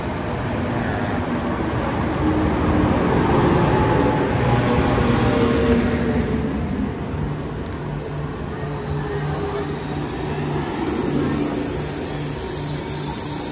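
A KTX high-speed train pulls into a South Korean station with a loud, steady rolling roar, metallic wheel squeal and tonal hums that shift as it slows.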